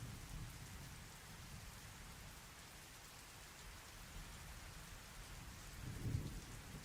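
Steady rain and thunder from a game in development fill the whole stretch at an even level, with a low rumble of thunder swelling briefly near the end.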